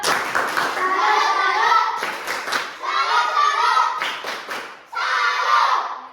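A class of sixth-grade children performs a rhythmic clap cheer, bursts of group clapping mixed with young voices chanting together, loud and close, in several phrases separated by brief pauses.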